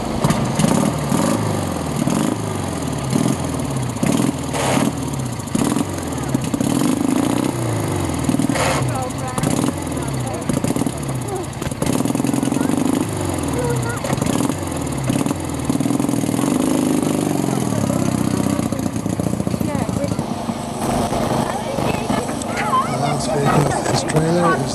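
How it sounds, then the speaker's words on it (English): A microcar engine, hand-lever started via the quick start button at the rear, runs with a buzzing, uneven putter and occasional revs at a rally, with people talking over it throughout. "Hand start, as you can see, hand lever which is coupled through to the normal quick start button on the engine"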